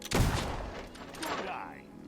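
A single loud gunshot fired at a target in the Fable II video game rings out close with a sharp blast and then a booming tail that fades over about two seconds.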